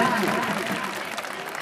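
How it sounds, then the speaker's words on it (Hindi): Applause from an audience at a children's science congress at a school in Chamba, a broad steady wash of clapping with talk mixed in, sustained and fairly even throughout. "थोड़ी थोड़ी तो तालियां बजा रहे, जोरदार तालियां बजाइए जरा"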